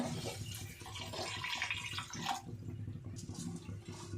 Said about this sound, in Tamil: தண்ணி சேர்த்துக்கலாங்க